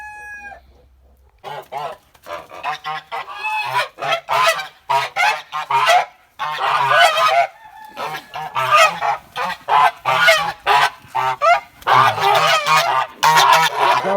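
A flock of geese honks loudly and repeatedly in rapid overlapping bursts, with some clucking fowl mixed in, close by and almost continuous.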